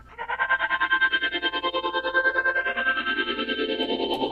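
A sustained synth chord with frequency shifters at about 50% creating a slow, sweeping phasing shimmer and a steady pulsing wobble, loud and alone throughout.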